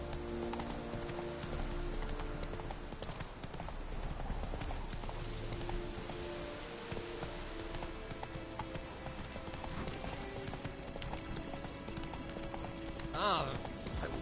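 A horse gallops in The Witcher 3, its hoofbeats a steady, continuous clip-clop rhythm that runs throughout under a dense game soundscape with faint voices.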